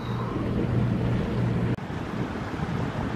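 A boat motors along the coast of Fraser Island, a large vegetated sand island in Queensland, with the current behind it. A steady low engine drone runs under wind and water noise, briefly cut by a short dropout midway.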